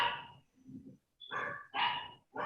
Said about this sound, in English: I just hear a dog